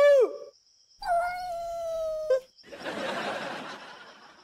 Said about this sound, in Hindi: बिल्ली की आवाज आई।